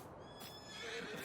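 A horse neighs in the farming video game Farming Simulator 19, a short whinny that rises and wavers near the end, heard alone over faint ambient noise.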